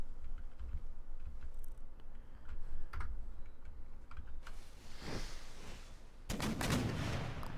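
Organ guns fire on cavalry in Empire Total War, Darthmod mod, with Ottoman forces. Muffled gunfire volleys burst out twice late on, after soft keyboard clicks, with no talk.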